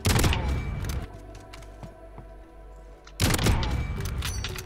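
Sniper rifle fire in a video game 1v1 match comes as two loud, booming bursts, one at the start and one near the end, with a quiet lull between them.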